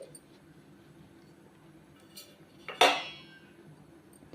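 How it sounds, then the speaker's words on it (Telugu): A plate pressed down onto sesame flour papad dough in a kitchen gives a single sharp clink, close and moderately loud, against a quiet background. "ఒక ప్లేట్ తీసుకొని ఇలా ప్రెస్ చేసి"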